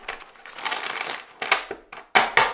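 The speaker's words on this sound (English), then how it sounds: "So I'll give this a quick shuffle." Tarot cards are given a quick shuffle by hand, producing close, crisp rustling and papery riffles followed by several sharp bursts of cards snapping together, with no talk.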